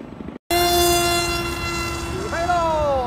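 A remote control airplane motor whines during landing, a steady high electric tone that shifts pitch near the end, following a short cut of silence.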